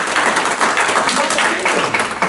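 Audience applause welcoming a volunteer referee named Melina, a steady wash of many hands clapping at close range, fairly loud and continuous throughout without any speech.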